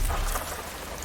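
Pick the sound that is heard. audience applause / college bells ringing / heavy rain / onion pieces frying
heavy rain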